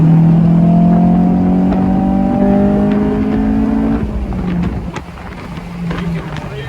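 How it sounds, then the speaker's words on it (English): A Honda S2000 engine revs hard as VTEC engages, a loud, close, rising mechanical howl that climbs in pitch for about four seconds, then drops off into lower engine noise and road sound. "Completely obvious that the VTEC comes in."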